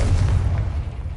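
A Confringo blasting spell explodes in Hogwarts Legacy, a heavy low boom that starts at full force and slowly rumbles away, loud and close, with no speech.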